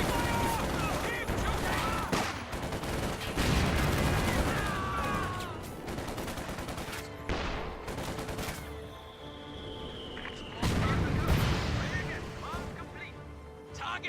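Dense firefight in a military strategy video game, with repeated gunshots, bursts and heavier booms layered throughout, loud and continuous, while game voice lines call out over the battle.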